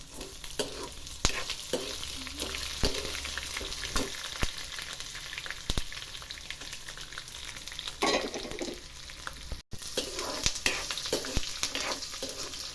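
Poha roasting on low flame in a pan with chillies, stirred steadily: continuous soft sizzling with repeated scraping strokes of the spoon, close and alone without any voices.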